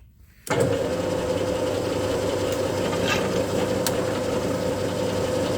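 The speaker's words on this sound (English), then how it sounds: "I'll finish drilling these. I'm double drilling them, so yeah, in from each end." A large metal lathe's motor kicks in abruptly and runs at a steady, close whirring drone with a faint metallic buzz while drilling into a metal part from one end, no talking.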